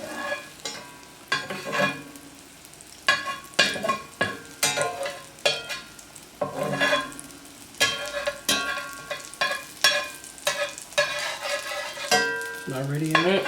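Collards frying in hot oil in a pan, loud sizzling bursts with stirring and spatter, irregular and close, no talk.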